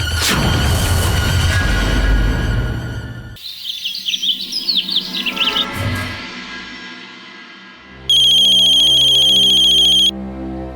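A loud electronic ringtone trills for a couple of seconds near the end, following a mix of music, chirpy bird-like sounds and a low rumble.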